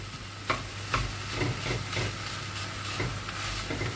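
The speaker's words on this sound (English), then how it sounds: "stir it round, and we're going to get some really, really nice colour on that beef mince" Beef mince for chilli con carne breaking up and being stirred as it fries in a pan, a steady close sizzle with sharp scraping knocks from the utensil at irregular intervals, no voices.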